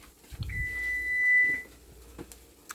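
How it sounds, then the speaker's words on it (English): A kitchen timer gives a single sustained electronic tone lasting about a second, alone in a quiet room while buttered mamon bakes. "our timer has ended up"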